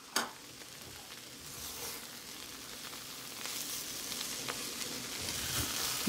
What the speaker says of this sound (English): we're going to add back in our ham, our sausage, and our bacon and mix that back in.